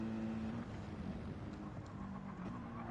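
A Mercedes AMG race car laps Spa-Francorchamps in Gran Turismo, its engine a steady, droning hum that holds a fairly constant pitch with slight dips, heard alone.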